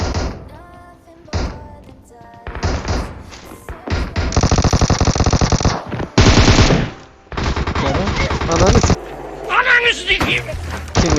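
Gunfire in the mobile battle-royale game PUBG Mobile: bursts of automatic machine-gun fire and single shots, loud and close, alternating with short gaps, with players talking over the action.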